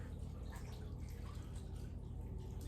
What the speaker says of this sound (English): Now we have to mix it with a quart of milk, which I've pre-poured.